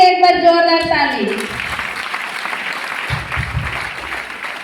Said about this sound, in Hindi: तो लगा दीजिए एक बार जोरदार ताली।